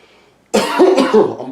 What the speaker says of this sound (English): Random ass cough.